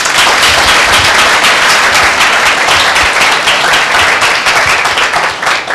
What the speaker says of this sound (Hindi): वो ताली बजाएंगे।